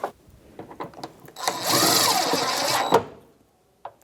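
A power driver with a T30 Torx bit whirs as it runs screws in during a liftgate lock actuator job on a Jeep Grand Cherokee, one sustained burst of about a second and a half after a few light clicks.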